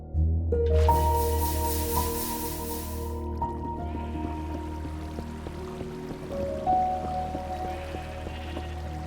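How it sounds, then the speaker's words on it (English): Water poured over a small lava pool in Minecraft, a wash of liquid hiss and splashing for a few seconds, then faint drips and a low background hum, with no talk. "That's a small little lava pool, so I'm going to head there, cover it in water, and get myself the obsidian I need."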